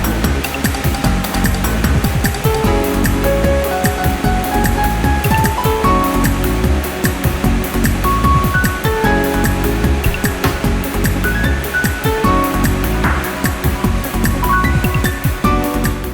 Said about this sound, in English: When the water's deep enough, the boat gains speed.